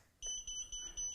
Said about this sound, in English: the buzzer will complain